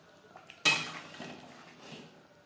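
A spoon clanks once against a pan and then scrapes softly while chicken chaap gravy with added water is stirred, followed by a faint fading rustle; no one speaks.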